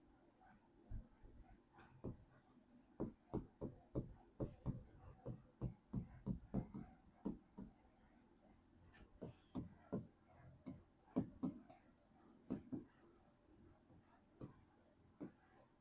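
A pen scratches across paper while a heading is written by hand in block letters, giving quiet, irregular strokes and taps with soft whispery scraping between them.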